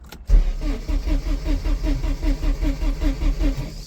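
A car engine cranks over with a fresh rotor arm and distributor cap fitted, giving a loud, rhythmic starter churn with evenly pulsing strokes. It keeps turning for a few seconds without catching, and no one speaks.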